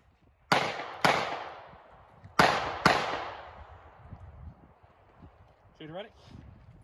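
Pistol shots on a USPSA match stage outdoors, four loud cracks in two quick pairs with echoing tails, followed by quieter handling sounds and a short electronic timer beep.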